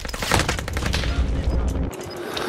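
Gunfire in a Call of Duty Warzone match on Rebirth Island: a rapid, loud string of close shots cracking one after another, cut off shortly before the end.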